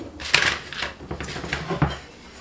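A baked cheesecake crust is flipped and set down into a cake pan, giving a few quick clattering knocks and soft taps close by, with no talk.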